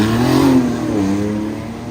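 A 2024 Dodge Charger with the Hurricane six-cylinder engine revs steadily during a burnout, a loud, sustained mid-pitched engine drone. The pitch rises briefly, then eases and holds, with no talk over it.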